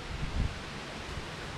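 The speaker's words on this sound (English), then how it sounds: "it's windy out here" Wind buffets a microphone outdoors beside a pond, a steady roar with low gusty rumbles and a brief stronger thump early on, with no talking.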